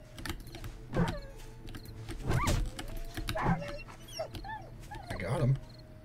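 A dog barks and growls several times in the dark in the survival game 7 Days to Die, the sharp bursts rising over a player talking and background noise.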